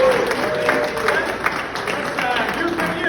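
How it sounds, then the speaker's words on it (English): Rotary club members applaud a newly inducted member at a meeting, giving a steady round of clapping from a small crowd in a room, with a voice mixed in. "give you a nice round of applause."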